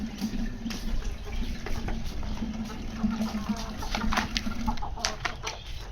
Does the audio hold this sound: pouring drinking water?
yes